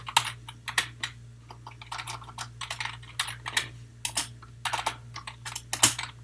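Code being typed on a computer keyboard in short bursts of close, crisp key clicks with brief pauses, over a steady low hum, no voices.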